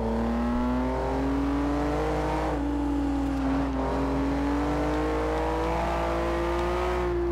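A 2015 Volvo S60 sleeper, partly upgraded, drives in Forza Horizon 2. Its engine holds a loud, steady drone under load, dipping briefly and then climbing slowly in pitch. No one speaks.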